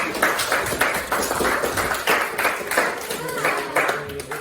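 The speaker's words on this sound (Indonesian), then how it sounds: "kasih tepuk tangan buat Faisal" High school students in an Indonesian classroom clap for a classmate named Faisal, a brisk, fairly close patter of hands with a few louder bursts, lasting several seconds.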